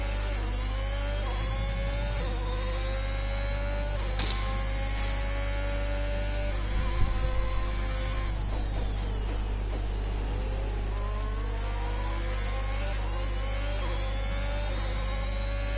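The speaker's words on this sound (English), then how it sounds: "I love the sound of these engines." Formula 1 race cars from the F1 2021 racing game roar through a final race lap, with steady high engine whine, rising and falling revs and gear-shift sweeps running continuously at a loud, even level.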